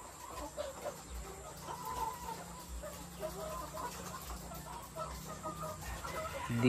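Continuous overlapping clucking from a flock of Dekalb White laying hens housed in an egg layer farm's cage building, a busy, even murmur of many birds close by without any speech.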